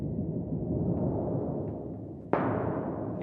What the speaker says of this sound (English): It's a piece of sheet metal, and you can get a wonderful low-frequency rumble out of it.